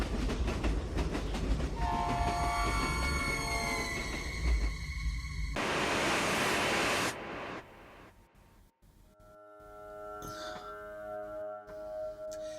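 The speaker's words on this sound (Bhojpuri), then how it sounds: "भुवन के ई कहा थी, भागत ट्रेन फिर से दिखाई देवे लागल" A speeding train in a horror story roars past with sustained tonal horn blasts over a heavy rumbling rush, then fades into quieter lingering tones and scattered clatter.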